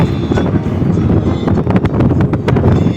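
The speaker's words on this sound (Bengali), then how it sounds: "খুবই হাওয়া দিচ্ছে।" Strong wind blows across the open shore of Mirik Lake in North Bengal, with trees all around, producing a steady, close buffeting roar with gusts that rise and fall over the microphone.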